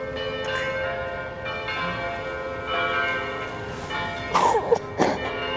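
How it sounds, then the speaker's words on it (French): A church bell tolls for a funeral, several slow, resonant strokes ringing out with lingering overtones, heard at moderate distance with a couple of brief louder bumps near the end. "Puis écoutons la cloche. Ça, c'est un funérail."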